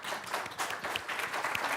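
Steady audience applause fills a hydrogen industry forum hall, dense clapping from many hands at moderate level, continuous throughout with no voices rising above it.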